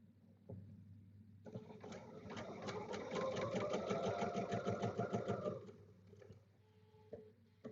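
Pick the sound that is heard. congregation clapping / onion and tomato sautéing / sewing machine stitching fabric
sewing machine stitching fabric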